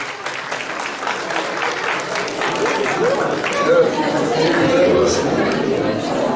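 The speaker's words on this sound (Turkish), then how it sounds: "Bir alkışlar bize efendim şöyle bir" Guests at an engagement ceremony in Ankara applauding while chatter and voices carry on alongside, the clapping swelling slightly louder in the second half.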